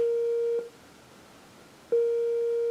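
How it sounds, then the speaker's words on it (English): A steady electronic sine tone from a synth, its volume pulsed by a slow square-wave LFO at full depth: it cuts off abruptly, leaves a gap of silence, then switches back on, like a slow on-off volume pulse. "I've sent my LFO to the volume, and I've selected a square wave for the LFO"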